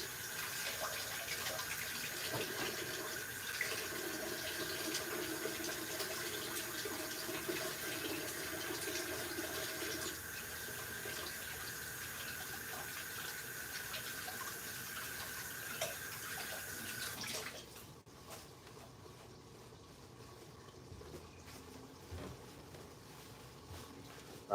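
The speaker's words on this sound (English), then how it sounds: "Let me wash my hands from the butter." A kitchen tap runs steadily while hands are rinsed of butter. The water stays continuous and moderately close for about eighteen seconds, then shuts off, leaving quieter room sound.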